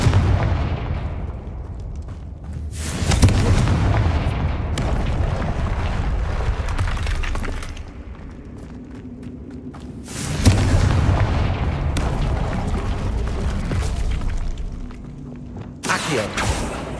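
Confringo blasting spell explosions in the Hogwarts Legacy video game, several loud booming bursts separated by quieter stretches, each blast trailing off into rumble.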